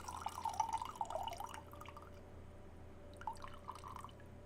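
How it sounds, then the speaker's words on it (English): Water trickles and drips into a glass of whiskey in two short pours, the first longer and the second brief after a quiet gap, close and fairly soft over a low steady hum. "Let me add at least the last little bit of water I got."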